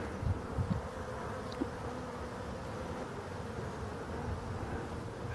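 Black honeybees swarm at a hive entrance on a sunny late-November day, making a steady, dense buzzing drone up close. It continues unbroken throughout, with a few light knocks near the start.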